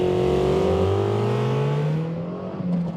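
A Toyota MR2 mid-engined sports car launches hard, its engine note climbing steadily through a single gear as it pulls away, loud and close throughout with no one talking.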